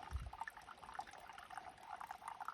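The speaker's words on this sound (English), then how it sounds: "Let it filter through to my smart water bottle." Stream water collected on the Appalachian Trail trickles through a squeeze filter into a smart water bottle, a faint, close, steady pouring dribble.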